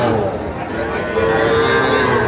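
A young bull calf at the Ambari cattle market in Dinajpur gives a long, loud, close moo over the steady background murmur of the market.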